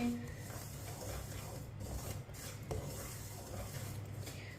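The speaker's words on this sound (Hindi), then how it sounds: "इसी तरह चम्मच चलाते हुए सूजी को भूने।" A spoon scrapes and stirs semolina roasting in a pan for halwa, with soft, repeated metallic scraping and rubbing strokes, close and fairly quiet.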